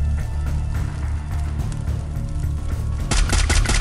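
Rapid bursts of Free Fire video game gunfire crackle almost nonstop over a dense, booming background, growing sharper and louder toward the end.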